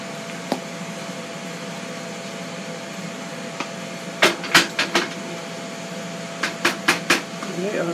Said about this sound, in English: while my chicken is air frying